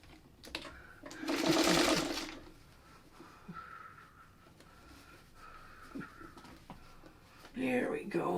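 A sewing machine stitches a pieced Amish Star quilt block in one close, whirring burst of about a second, then stops, leaving faint handling noises and quiet fabric sounds.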